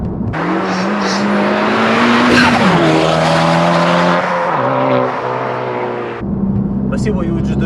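Honda Civic Type-R FK2 cornering hard through a roundabout, loud engine drone rising and shifting in pitch with tire squeal, heard from inside the cabin while people talk over it.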